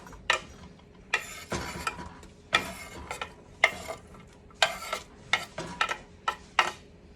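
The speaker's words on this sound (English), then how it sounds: "we'll go ahead and rake that onion in there" Chopped onion raked from a board into hot olive oil in a skillet over medium heat: a string of about a dozen sharp scraping and clattering strokes in an uneven rhythm, close and moderately loud, with no talking.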